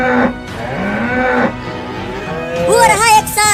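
Cattle low in long, deep moos, one drawn-out call followed by a rising, wavering bellow near the end, loud and close.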